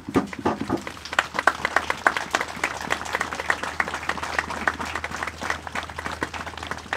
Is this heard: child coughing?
no